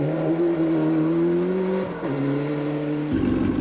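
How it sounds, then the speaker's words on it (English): A Ford Escort rally car's engine drones steadily with a rough, uneven tone, dipping and shifting in pitch partway through as it runs on the stages of a 1996 WRC rally in Australia. "The Stirling stages were also taking their toll on an agitated Belgian, Bruno Thierry, his Escort misfiring."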